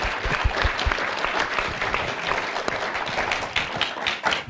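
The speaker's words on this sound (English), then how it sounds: "I think that deserves a round of applause." An audience at a silver jubilee celebration of postgraduate studies in applied spirituality in Dublin breaks into sustained applause, dense clapping that swells slightly near the end.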